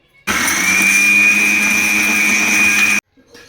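A mixer grinder whirs loudly at a steady high pitch for about three seconds, then cuts off abruptly.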